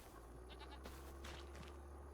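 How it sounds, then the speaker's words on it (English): Goats bleat in a pasture in the Farming Simulator 25 video game, several short wavering calls heard faintly at a distance over steady background hum and game ambience. "You got your goats over here,"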